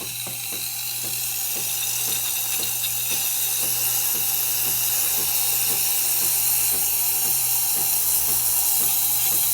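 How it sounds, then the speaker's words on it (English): A Breville 870XL single-boiler espresso machine steaming, giving a steady loud hiss over a low pump hum with a rapid regular ticking pulse throughout, and no talk. "it takes a little bit longer for the steam coming out perfectly. So there you go, you can start seeing the steam coming."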